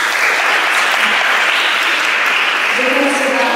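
A loud, dense round of applause from an event audience sweeps through continuously, close and sustained, with a few voices faintly mixed into the clapping.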